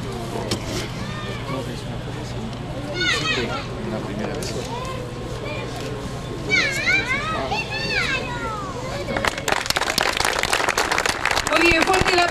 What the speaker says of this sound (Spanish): fuerte el aplauso entonces para esto que hoy es una realidad